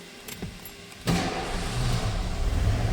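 The 5-liter V8 in a 1990 Ford Bronco XLT 4x4 cold-starts after a brief starter crank, then settles into a steady, close, rumbling idle.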